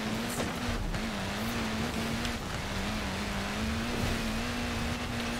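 A car engine accelerating in a Forza Horizon 4 race, a steady droning whine holding pitch with slight wavering, loud and continuous throughout.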